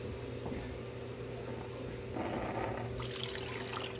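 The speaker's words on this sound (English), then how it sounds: "we're going to go ahead now and add some water to the goat" Water poured into a pot of goat meat on a stove for a Jamaican dish, a steady liquid splash and trickle that swells midway and continues close by with no talking.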